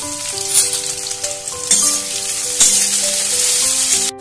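Two medium chopped onions sizzling loudly in hot oil with cracked cardamom. Occasional stirring swells break the crackle, which runs over a gentle background melody and then cuts off abruptly at the end.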